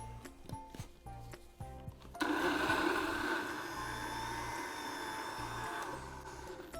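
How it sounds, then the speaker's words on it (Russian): A loud, steady blender motor whirr starts abruptly after a few seconds of quiet clattering and keeps running to the end, blending roasted beetroot with oil and pasta water. "Все, и включаем блендер."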